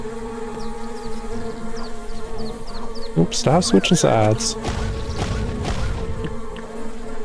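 A bee enemy buzzes in the action RPG Secrets of Grindea, a steady droning hum under game music and a talking player, with sharp combat sound effects in the middle.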